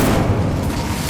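Incendio fire spell cast in Hogwarts Legacy, a loud, close booming burst of flame with a deep rumble that fills the brief moment.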